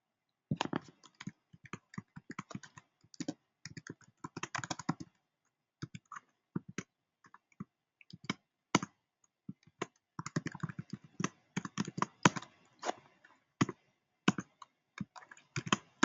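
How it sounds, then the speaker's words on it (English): Someone types on a computer keyboard, entering the basic code of a web page; the keys clack in uneven, unhurried bursts with short pauses between runs, close and clear. "And I'm going to start typing."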